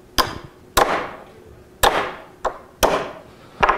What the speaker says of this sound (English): If I like really hammer on this shaft,